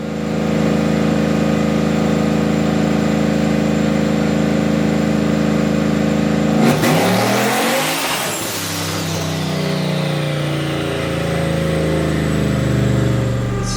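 A car with a turbocharged VK56 V8 roars loudly on dyno rollers. A steady, high-pitched drone holds, then shifts abruptly partway through, and the engine keeps running hard and close, with no voices.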